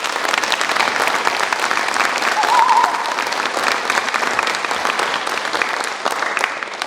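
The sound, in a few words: audience applause for a uniformed serviceman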